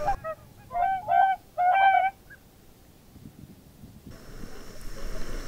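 Whooper swans at the entrance to Sarek National Park call in a few loud, nasal honks clustered near the start, then fall silent, leaving faint wind in a wintry landscape.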